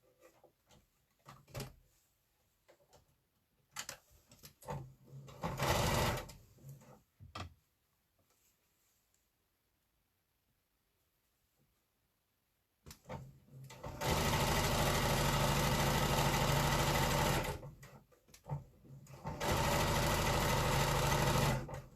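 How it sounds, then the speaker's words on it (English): A home sewing machine stitches a quilted tulip block, joining a fabric leaf to the stalk; short whirring bursts give way to two long, steady runs of close, busy stitching separated by a brief pause. "So I'm just sewing that bit, the leaf, to that side of the stalk."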